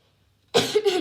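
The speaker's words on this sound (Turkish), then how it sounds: "Öksüresim geldi." A single close cough at a campsite after a moment of near silence, a harsh burst followed by a rough throaty tail.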